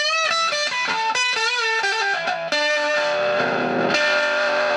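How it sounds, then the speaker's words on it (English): A heavily distorted, fuzzy electric guitar through a trigger fuzz pedal plays short sputtering notes that break up and gate abruptly, then swells into a sustained buzzing tone, with no voices. "it was more of a trigger fuzz"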